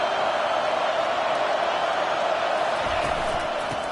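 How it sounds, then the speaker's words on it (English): A football stadium crowd roars steadily at a big moment in a game, with a dense, loud, unbroken wash of many voices throughout and a slight easing at the end. "this crowd is turning it up a notch"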